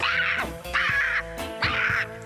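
Several people imitate seagull cries on a building site, giving three long, harsh, wavering cawing shouts in a row, loud and close, over a busy background.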